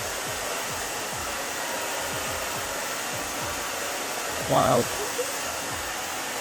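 Hair dryer blowing on a man's hair before bleach goes on, a steady loud whooshing hum throughout, with a brief spoken exclamation over it near the end.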